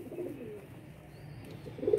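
Soft pigeon cooing at close range, one low coo early and another near the end, with quiet ambient noise between.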